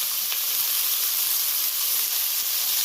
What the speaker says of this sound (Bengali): তেল দিয়ে দিয়েছি। এবার ডুমু করে কেটে রাখা আলুগুলো দিয়ে দিলাম।